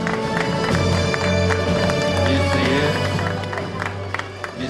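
An audience applauds an award winner at a textile industry awards ceremony. Dense, sustained clapping mixes with crowd murmur and a few voices, loud at first and easing slightly toward the end.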